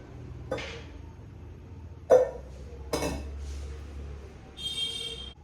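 Chopped food goes into a vessel in a few separate clinks and knocks of dishes, with a sharp clatter near the middle and a brief ringing chime at the end against a quiet background.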